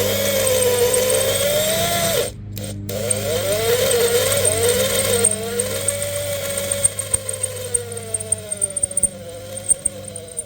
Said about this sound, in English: So when we're drilling this, we need to go slowly.